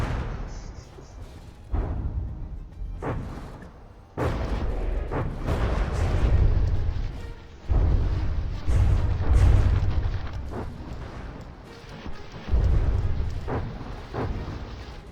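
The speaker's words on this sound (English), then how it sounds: "they're still capable of firing as they explode in my face" Explosions and cannon fire from a From the Depths naval combat tournament battle, with repeated heavy booms and rumbling blasts arriving in irregular bursts, some overlapping, with no talking.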